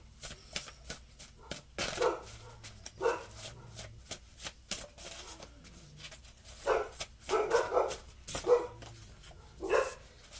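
Dogs bark in short scattered bursts at a moderate distance, mixed with shuffling and tapping noises nearby in an indoor setting.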